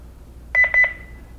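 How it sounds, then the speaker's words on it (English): A quick burst of four electronic beeps from a Honeywell L5100 wireless security system as a door opens, clear and close, followed by a short fading tone against a quiet background. "We're gonna open our door once, beeps, close our door, open it again."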